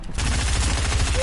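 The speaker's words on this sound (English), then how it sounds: "They got a normal SMG." Rapid submachine gun fire in a first-person shooter, a dense burst of shots running continuously and loudly through the whole moment with no pauses.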